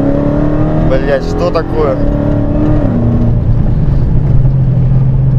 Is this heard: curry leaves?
no